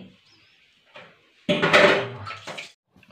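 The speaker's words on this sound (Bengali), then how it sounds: "এই ছাকা জলটা আবার কড়াইতে ঢেলে দিচ্ছি" Strained water from making Bengali jujube pickle is poured back into a metal wok, a short splashing pour in the middle preceded by faint clinks of pots and utensils, close and alone without talk.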